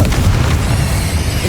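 A Confringo explosive spell blast in Hogwarts Legacy, a deep, loud boom that rumbles on steadily for the whole stretch with no talk over it.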